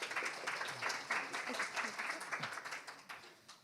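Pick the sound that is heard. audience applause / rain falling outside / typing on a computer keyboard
audience applause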